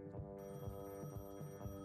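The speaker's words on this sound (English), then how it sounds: "Ooh, we got a phone." Electronic telephone ringing in the Gas Station Simulator video game, a steady tonal hum with throbbing pulses repeating roughly every half second, sounding alone at moderate level.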